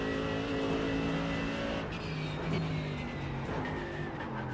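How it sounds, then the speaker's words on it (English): Race car downshifting at the Nurburgring in a racing video game, a continuous loud engine drone with shifting harmonic tones and a brief change in pitch midway, steady throughout with no talking. "That's a downshift."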